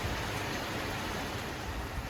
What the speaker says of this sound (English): It's raining, it's cold